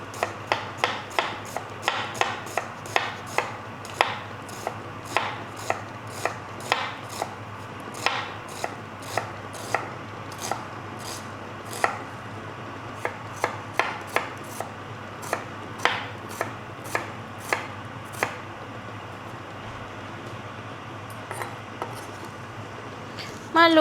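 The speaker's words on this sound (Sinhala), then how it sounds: "මම දැන් ලුණු එක කපා ගන්නවා. මම ලුණු එක මෙහෙම හීනියට ලියා ගන්නවා." An onion being sliced thinly with a knife on a board, a steady run of sharp, regular chopping taps close by, briefly pausing midway before the cutting resumes.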